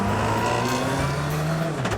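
A fast sports car drives down Tunbridge Wells High Street, its engine droning close and steady from inside the cabin, with a brief rev rising near the end.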